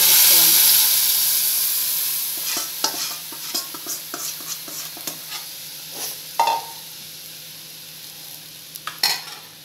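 Mashed boiled dal is tipped into a pan of fried onions and stirred, giving a steady sizzling hiss broken by repeated scraping stirs and a few louder clanks close by.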